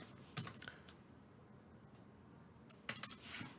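Typing on a computer keyboard, faint and close, with a few quick bursts of clicking keystrokes separated by quiet gaps.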